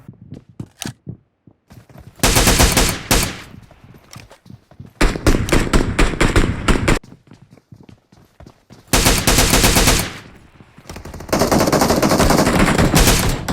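Gunfire in a mobile shooter game with a pistol in play: loud, close bursts of rapid shots that stop and start in long runs, with short gaps of quieter clicks between them.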